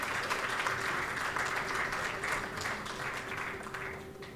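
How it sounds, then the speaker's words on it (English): Graduates at a program graduation ceremony give a round of applause. The steady, even clapping from a crowd is moderately loud, heard alone, and fades slightly toward the end. "So I want you to give yourselves a round of applause for that."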